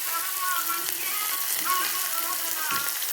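Fenugreek, onion and chili sizzle in hot oil with a dense, steady, close crackle throughout, plus a brief soft knock near the end.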